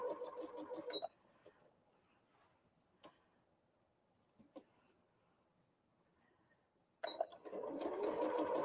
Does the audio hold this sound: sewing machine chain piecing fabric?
yes